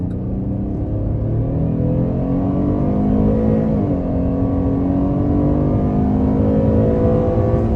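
A 2023 Chevy Traverse LT accelerating hard: a loud, close engine drone that climbs steadily in pitch with a rising intake rumble, heard alone without talk.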